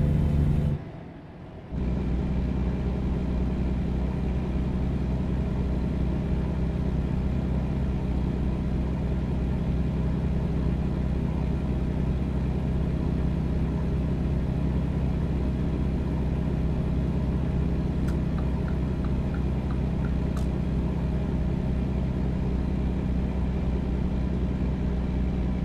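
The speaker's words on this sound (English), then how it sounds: "Sound this thing makes, it's just, it roars," A heavy truck engine in American Truck Simulator roars steadily and loudly for the whole stretch, a deep continuous rumble with a brief dip near the start and faint clicks later on.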